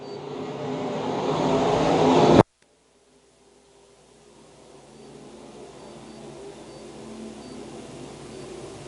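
USRA B Modified race cars in a nighttime A main feature: a loud, building engine roar cuts off abruptly, followed by a distant rumble of cars that slowly grows louder again.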